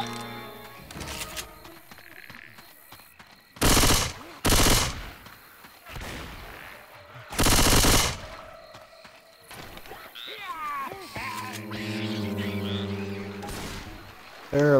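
A video-game firefight against zombies: several loud bursts of gunfire blast out in separate volleys, with quieter game sounds and tonal effects between them and a voice briefly heard.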